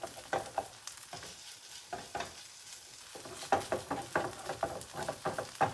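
Shredded potato hashbrowns fry in butter as a spatula repeatedly stirs and scrapes them, giving irregular bursts of scraping and crackle over a soft, close sizzle.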